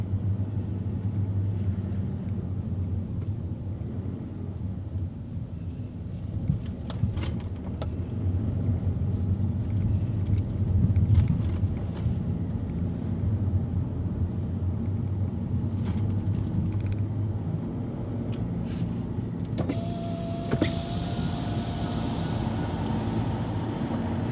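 A parked car's engine idles steadily, a low, even rumble held throughout, with a few faint clicks and knocks over it and no talk.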